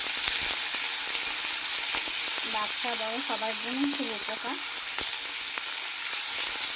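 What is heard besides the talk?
spinach and vegetables frying for vegetable dal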